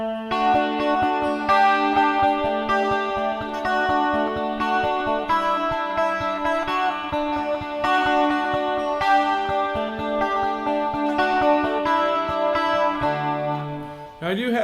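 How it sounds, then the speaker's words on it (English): Shimmering 12-string guitar run through vibe, chorus and reverb effects, strummed in a steady rhythmic pattern with lush, wavering sustained chords, loud and close with no talking. "Now I like stacking this up with the chorus and the reverb"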